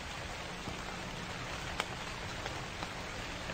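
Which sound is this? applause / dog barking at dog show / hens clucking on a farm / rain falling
rain falling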